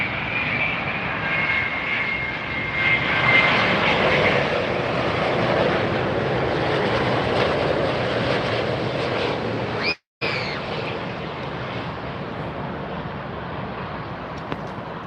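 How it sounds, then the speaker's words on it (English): A TAP Air Portugal airliner arriving from Lisbon and landing at Miami Airport, a loud sustained jet engine roar that swells, then fades slightly, heard close and alone without talk. "Tap Air Portugal 223 coming in from Lisbon."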